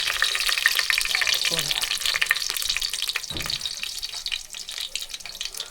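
Garlic and curry leaves frying in hot oil for a jackfruit dish, giving a loud, dense crackling sizzle that runs steadily throughout, with a couple of dull stirring knocks and no talk.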